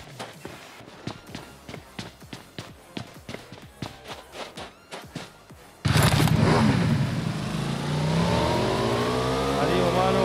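Rapid footsteps run for several seconds, then a motorcycle engine in the video game PUBG Mobile suddenly roars to life and keeps revving loudly, with a voice talking faintly under it.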